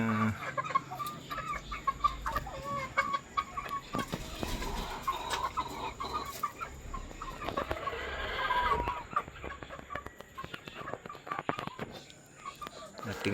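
Hens cluck and crow inside a chicken breeding barn, a busy mix of close and scattered bird calls with someone talking over them throughout.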